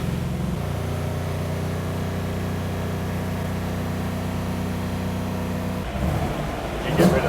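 An LS-swapped Lexus IS600 idles with a steady low engine hum that holds for several seconds, then shifts and roughens near the end as a person talks nearby.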